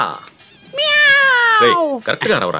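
A voice mimics a tiger's roar but comes out as a long, drawn-out cat-like meow that slides downward, with brief speech before and after it.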